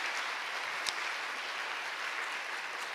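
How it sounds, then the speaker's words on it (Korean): A church congregation claps to welcome newly registered families during a Sunday service, a steady even patter of many hands at moderate distance with one brief louder accent early on. "우리 박수로 환영하겠습니다"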